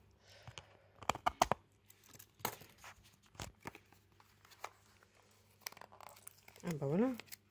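Plastic packaging from a Shein clothing and makeup haul is torn and crinkled open in scattered, irregular bursts of rustling and ripping at close range, with someone speaking quietly between the noises.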